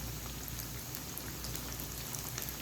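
Fish coated in spicy masala frying in oil in a pan over medium heat, giving a steady, dense crackling sizzle with scattered pops throughout, close and even in level, no voices.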